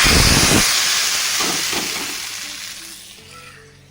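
Hot coconut oil with mustard seeds poured into a potato curry gives a loud burst of steamy hissing sizzle that slowly fades and thins over a few seconds, with no voices.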